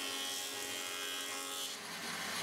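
A bandsaw in a home workshop cuts through plywood, producing a steady, loud, close whine and rasp that runs without a break and with no voices.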